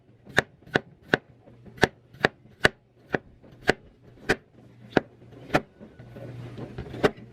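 A knife slices small potatoes thin on a cutting board, about sixteen sharp, evenly spaced chops heard up close, with faint rustling and handling noise creeping in toward the end.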